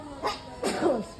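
A short, sharp sneeze bursts out in a store, preceded by a quick intake, moderately near and alone.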